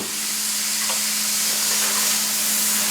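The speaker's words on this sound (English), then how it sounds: "in goes all of your zucchini noodles" Zucchini noodles go into a hot pan with garlic, olive oil and a little Parmesan, producing a broad, steady sizzle and hiss with a faint hum and no talk.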